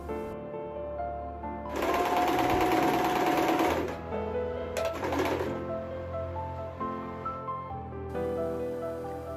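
A sewing machine stitches an upcycled pashmina scarf in one sustained, close run of fast needle clatter, followed after a pause by a brief second burst, with faint background noise between.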